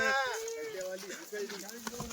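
A Kathiawadi sheep on a livestock truck lets out a drawn-out, quavering bleat up close, followed by softer animal calls mixed with voices nearby.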